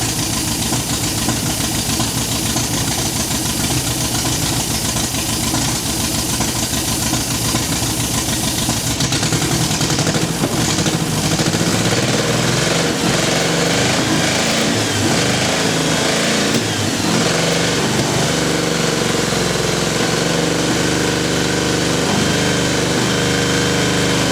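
A classic MGB engine, under restoration and running with no fuel pump on gravity-fed fuel, runs loud and steady close by. Its rough, continuous idle roughens and shifts partway through.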